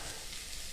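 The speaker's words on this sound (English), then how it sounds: "I think I'm going to let it sizzle for about" Cauliflower rice sizzles in a hot pan alongside shrimp and sausage, a steady broadband frying hiss that holds evenly and close throughout, with no voices.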